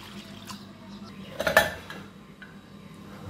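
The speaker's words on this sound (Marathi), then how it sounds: "आता ही डाळ शिजण्यासाठी आपण 1 वाटी डाळीसाठी 3 वाट्या पाणी घालत आहोत।" Water is poured into a pressure cooker of washed lentils for puran poli. The soft splashing is close, with a cluster of metallic clinks from the vessel midway.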